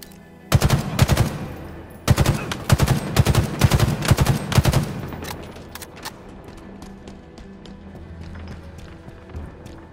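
Gunfire in the Halo video game: two dense bursts of rapid automatic shots, loud and close, then scattered single shots trailing off over a low hum of background noise.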